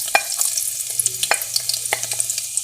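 Garlic hitting hot oil in a pan for spaghetti with spinach, a close crackling sizzle with sharp spattering pops and stirring scrapes at irregular intervals, no talk.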